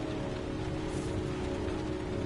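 Steady rain pours over a store in the game Heavy Rain, a dense, even wash of falling water that stays constant and close, with no voices.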